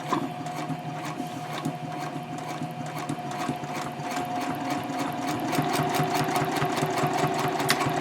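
Sewing machine stitching a messenger bag, then backstitching: a steady, close mechanical whir with rapid needle clatter that grows slightly louder toward the end, with no talk.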